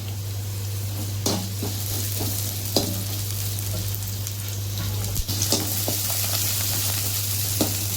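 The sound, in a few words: onions frying and being stirred in a pan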